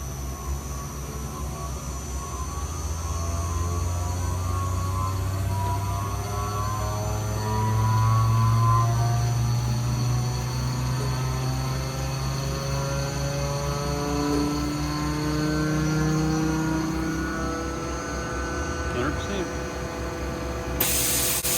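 A screw air compressor at an industrial fiber laser installation starts up gradually, a steady mechanical hum and hiss slowly ramping in pitch and loudness over about twenty seconds, with a brief faint burst near the end.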